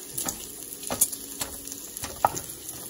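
Bacon frying in a pan, a soft steady sizzle with scattered crackles and pops, close and moderately quiet, with occasional stirring scrapes.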